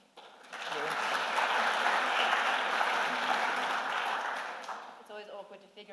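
Audience applause at the Playford Trust Awards 2024 ceremony rises quickly, holds steady for about four seconds, then thins out as a voice starts speaking.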